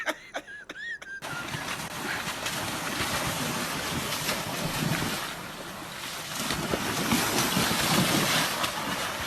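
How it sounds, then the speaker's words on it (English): Ocean waves played as a round of a sound-guessing game: a steady, rushing wash of surf with wind noise that swells and recedes, after a brief higher tonal chirp at the very start; no one speaks. "Ocean."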